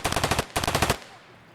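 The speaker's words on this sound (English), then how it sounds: "You can mount this machine gun." Mounted machine gun in Escape from Tarkov fires two loud, close bursts of rapid rounds separated by a brief gap, then a short fading tail.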